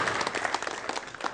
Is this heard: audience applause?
yes